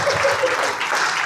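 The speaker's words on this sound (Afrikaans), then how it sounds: "Geef hom 'n hande klap uit sy bek." Church audience clapping at a service, a brief dense burst of many hands close by with a voice faintly mixed in.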